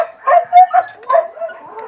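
Dogs bark close by in short, uneven bursts, about four yips and barks over two seconds, loud and alone, in a workshop where bushings on an Opel Frontera 2.2 DTI suspension arm are being replaced.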